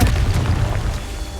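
A Confringo blasting spell explodes in the Hogwarts Legacy video game, a loud, deep boom with a heavy low rumble that carries through the whole brief moment, with no voices over it.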